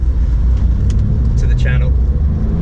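Porsche 911 Carrera 4S of the 996 generation from 2004, driven on the road: a deep, steady engine rumble from inside the cabin, with a faint voice over it.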